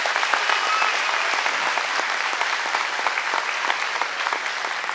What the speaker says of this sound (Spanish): para quien me estoy pidiendo este aplauso